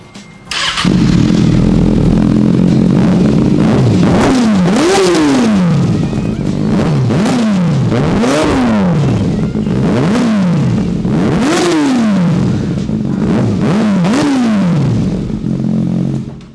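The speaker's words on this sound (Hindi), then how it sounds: "तो अब चलिए सबसे पहले इस बाइक की आवाज़ सुनाते हैं आपको।" A Ducati Panigale V2 superbike cranks to life, then is revved repeatedly in sharp rising-and-falling blips over a steady idle, loud and close, with no one talking.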